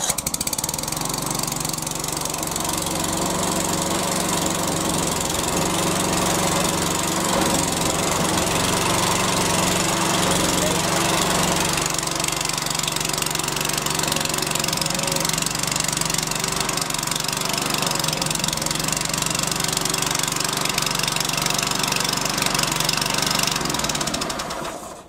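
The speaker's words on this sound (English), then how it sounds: "start the engine." Close and loud, a Hyundai HYM430SPER self-propelled petrol roller lawnmower engine runs at a steady rough chug and drone throughout, with no talking.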